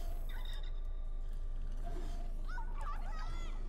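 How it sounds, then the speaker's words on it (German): A wild turkey gobbles in the video game Far Cry 5, a short rapid burst of rattling gobbles near the end over a constant game hum and a faint earlier call. "Ein wilder Truthahn."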